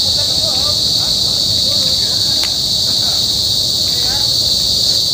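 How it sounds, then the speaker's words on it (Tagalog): Insects in an urban forest in Manila shrill in a dense, continuous high-pitched chorus that is loud and steady throughout, with faint bird calls and low background rumble beneath. "Marinig ko sa iyo guys yung mga honi ng mga insekto"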